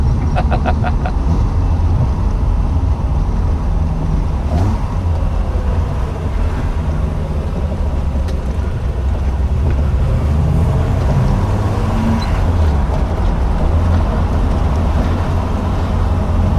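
A Triumph 2500 MK I car driving round a block, its engine and road noise a steady, loud low rumble throughout, with no knocking or clunking standing out.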